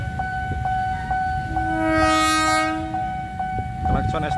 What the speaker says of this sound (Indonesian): Klakson S35 nya sudah bunyi.